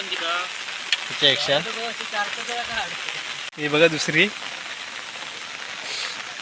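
Heavy rain pours over a creek during fishing, a steady close hiss that runs throughout while someone talks over it in short bursts.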